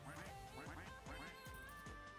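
A flock of ducks quacking in the Roblox game Duck Army, dense overlapping quacks repeating rapidly and loudly with no voices over them.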